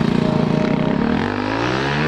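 Honda CRF450X motorcycle working through a gymkhana course, its engine note rising and falling with steady revs, close and loud, the pitch dropping as it settles partway through.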